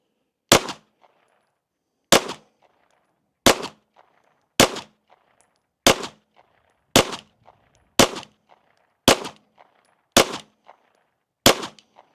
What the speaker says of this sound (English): we got 10 rounds of CCI 115 grain Blazer loaded up. Let's shoot a group at that top right target